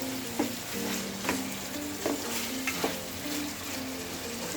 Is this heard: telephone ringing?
no